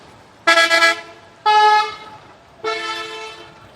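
Three short, loud car horn honks sound one after another on a busy road crowded with pre-Eid traffic, with brief gaps between them.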